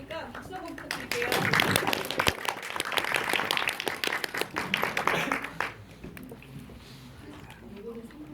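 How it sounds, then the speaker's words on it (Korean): A crowd at a Korean film screening Q&A claps in a dense burst of hand claps for several seconds that thins out near the end, with voices talking over the clapping. "박수 한번 부탁드릴게요."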